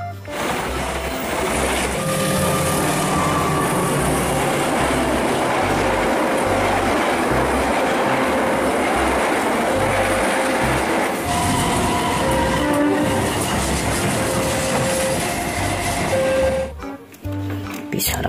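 A KRL commuter electric train in Indonesia rolls past close by, a steady loud rumble with rhythmic wheel clatter and brief tonal whines running throughout, fading abruptly near the end.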